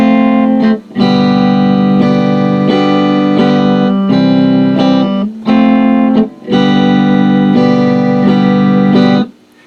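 Acoustic guitar strums the La Bamba chord progression, changing to G half a beat early; loud, steady chord strums with brief gaps between phrases, alone with no talk.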